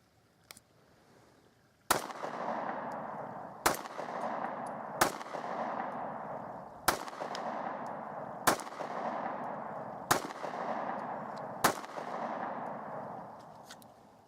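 Seven sharp, loud compact handgun shots ring out at irregular intervals of about one to two seconds, each striking steel swinger targets and bowling pins, with a reverberant tail and no talking.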